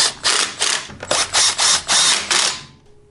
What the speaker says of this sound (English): These ones that I'm screwing in right here are just plastic.